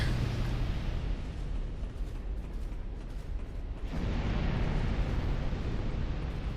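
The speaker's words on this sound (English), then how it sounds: "I'm gonna wait for the fire." A roaring fire blast in Dark Souls 2 near the Old Iron King area: a dense, loud rumbling whoosh that fills the stretch, dips slightly, then swells again.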